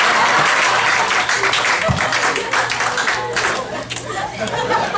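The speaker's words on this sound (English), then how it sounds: "Clap for women." Stand-up comedy club audience clapping and applauding, a dense burst of clapping mixed with chatter and a few voices, loud at first and easing off slightly toward the end.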